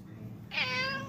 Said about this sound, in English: He's so sweet of a cat. He just meows a lot, though.